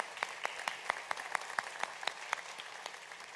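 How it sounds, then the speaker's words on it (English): An audience at a senior-care panel event applauds the panelists, a steady wash of clapping with individual claps standing out, moderately distant. "could we give all the panelists a round of applause?"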